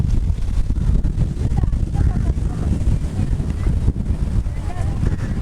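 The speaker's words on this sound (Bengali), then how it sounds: "এত সুন্দর ঠান্ডা হাওয়া দিচ্ছে" Cool sea wind blows steadily across the microphone on the Andaman coast at dusk, a continuous low rumbling buffet with faint background murmurs throughout.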